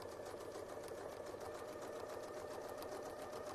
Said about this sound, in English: We're going to sew up to this line